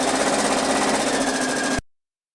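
A serger stitches a sweater seam at a fast, even whir with rapid needle clatter, running close and steady before stopping abruptly.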